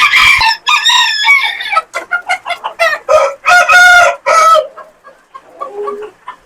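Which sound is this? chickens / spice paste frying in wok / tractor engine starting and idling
chickens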